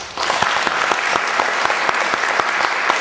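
An audience at a foundation grants press conference gives a sustained round of applause for the grantee speakers, dense and fairly close with a few sharp individual claps standing out.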